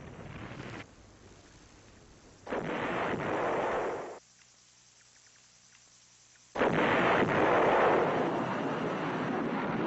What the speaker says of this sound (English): Furious American bombing and artillery fire drove off the assaults.